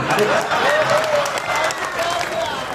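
Crowd clapping at a Hindi comic poetry gathering, a steady wash of applause with a voice speaking over it throughout.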